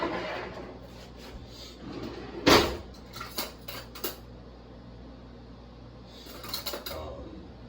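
Metal spoon being taken out in a kitchen while making oatmeal: a sharp clinking knock of cutlery, followed by softer rattles and small taps, close and fairly quiet.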